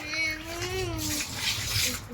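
Water running while a dusty balcony is washed, a steady splashing gush beneath a child's sing-song voice and other chatter, close and fairly loud.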